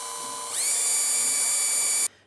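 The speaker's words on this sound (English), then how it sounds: "I've got a 7/32 bit that I'm going to go ahead and drill with" A 7/32 drill bit bores a pilot hole during a radiator install on a 1999-2012 Chevy or GMC truck: a steady, high-pitched electric drill whine that rises as it spins up, holds for about a second and a half, then stops abruptly.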